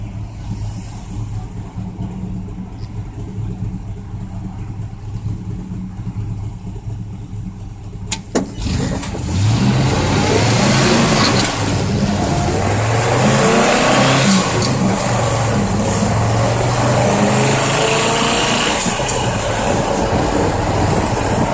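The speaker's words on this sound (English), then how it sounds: "I do like the way that big block sounds." A big-block engine in a 1965 Ford F250 truck roars up loudly after a quieter idle, revving and droning steadily close by, with no one talking.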